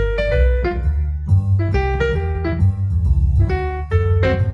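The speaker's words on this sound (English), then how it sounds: "I learned this one this week on mandolin." A mandolin playing a short, simple blues-note phrase, plucked notes in quick clusters with a low accompaniment underneath, close and clear with no talking.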